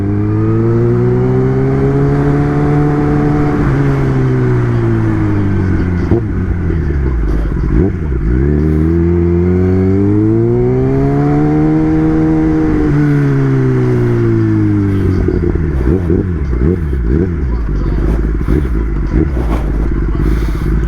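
A Kawasaki ZX10 sport motorcycle revs loudly and continuously with the rider on board, its engine pitch sweeping up and down through several rises and falls as gears change, including a missed downshift toward first.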